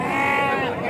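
A male goat bleats loudly and close by at a weekly sheep and goat market in Kothacheruvu, one sustained wavering cry heard over crowd chatter.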